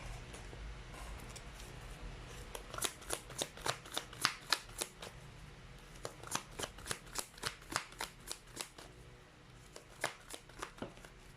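Tarot cards are riffled and shuffled in a quiet room, a long run of crisp, rapid papery flutters in two bursts with a short pause between, close and clear with no talking.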